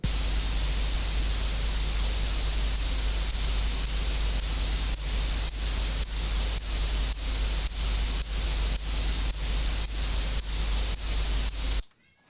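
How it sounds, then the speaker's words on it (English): Steady hiss of white noise, sidechain-compressed in Bitwig, that ducks rhythmically in regular pulses, pumping in time with a steady beat, then cuts off abruptly at the end. "that's cut nicely into the white noise"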